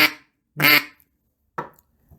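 A double reed duck call blown in three separate bursts, the middle one longest and loudest, with raspy quacking tones and short silent gaps between, close up and alone.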